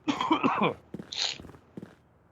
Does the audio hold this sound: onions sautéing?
no